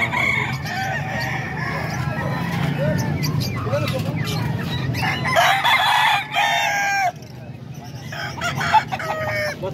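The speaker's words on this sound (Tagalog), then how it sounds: "Kasama to sa mga manok ni Boss Russell mga kaidol." Several roosters crow among clucking chickens on a farm, with overlapping calls near and farther off over a steady murmur of background noise.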